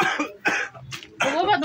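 Several harsh coughs from an ill elderly man, close and loud, coming in three or four separate bursts with short pauses between them, with no talking.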